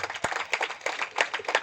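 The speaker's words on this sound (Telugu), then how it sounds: "చప్పట్లు గట్టిగా." Audience clapping at a Telugu church gathering, a dense burst of many hands applauding at moderate volume for a second and a half, with a faint voice underneath.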